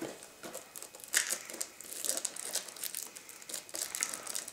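Plastic wrap crinkles and tears as boxed Runewars command expansions are unwrapped, a steady close crackling and rustling with sharper crunches throughout.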